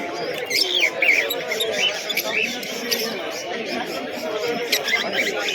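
Lovebirds and other exotic birds at a crowded bird market give dense, high chirps and chatter, with pigeon coos mixed in, over a busy murmur of background voices.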